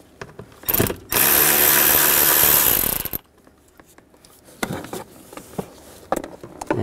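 A power drill spins screws out of a 1999-2007 Chevy Silverado 2500 HD blower motor resistor with a 5.5mm socket: one loud, steady whir of about two seconds, with brief clicks and handling noises before and after.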